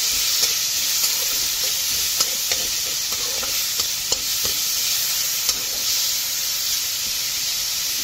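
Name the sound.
tomatoes with turmeric frying in a pan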